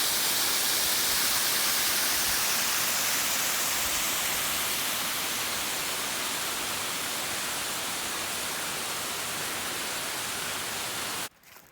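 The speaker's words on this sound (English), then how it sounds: "you'll come up to the top of a nice waterfall." A waterfall on a forest trail pours steadily, a loud, dense, unbroken rush of falling water heard up close for over ten seconds before cutting out abruptly.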